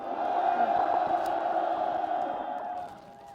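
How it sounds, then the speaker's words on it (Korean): A crowd at a political rally in Korea cheers and shouts in a brief, loud burst that fades near the end, with an echoing, reverberant quality. "큰 박수 함성 부탁드립니다."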